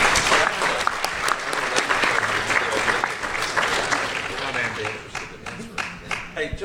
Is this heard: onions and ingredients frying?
no